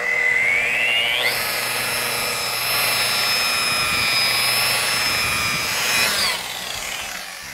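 A rotary polisher with compound on its pad buffs car paint, a steady high motor whine rising in pitch as it spins up near the start and dropping off near the end, loud and close with no talking.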